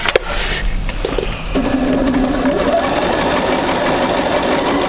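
A sewing machine stitches quilt wedges, a steady close mechanical hum and whir that runs almost continuously, with a few small clicks and handling noises at the start.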